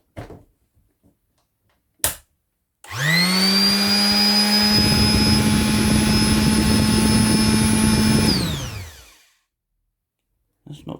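A Jellas detail sander is switched on after a couple of handling clicks, runs with a steady high-pitched motor whine and buzzing vibration for about six seconds, then winds down to silence.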